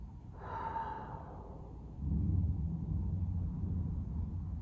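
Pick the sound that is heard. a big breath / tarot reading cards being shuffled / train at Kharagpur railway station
a big breath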